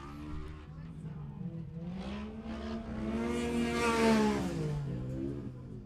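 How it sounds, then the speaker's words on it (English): Race car driven by Ryder Van Beekem at a Round 2 Saturday main event, its engine note rising and falling as the throttle is worked on and off, heard at moderate distance with commentary voices faintly over it. "You can hear Ryder Van Beekem on and off that throttle again."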